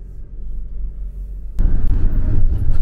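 A camper van is shifted into drive and pulls away. A low idle rumble jumps abruptly to a louder, rougher engine and road roar, close up, with no talking.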